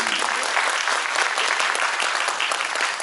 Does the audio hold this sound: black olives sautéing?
no